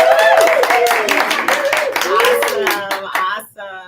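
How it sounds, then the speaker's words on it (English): A studio audience claps for a guest in a short, lively burst of applause mixed with cheering voices, fading abruptly near the end. "let's give her a hand"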